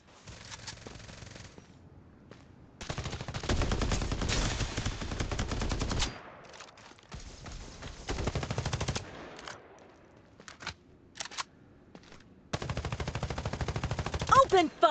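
Rapid automatic gunfire in the battle royale game Farlight 84, loud bursts of several seconds separated by pauses and short shots, with faint game voice lines in between.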